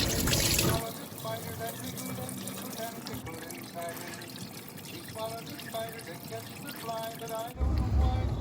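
Water gushing out after the top of a container is opened, a steady rushing, trickling flow that keeps up with little change and swells briefly near the end.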